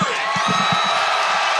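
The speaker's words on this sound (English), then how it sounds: "Crowd going crazy for goalie Matt Murray" A large crowd cheering and whooping at a Pittsburgh Penguins Stanley Cup victory parade for goalie Matt Murray, a dense, continuous roar of voices with scattered shouts, loud and steady throughout.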